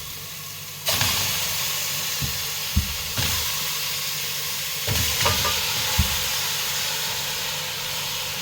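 Chicken pieces added to a hot pan give a steady frying sizzle and hiss, with a few dull knocks and stirring scrapes scattered over the continuous crackle.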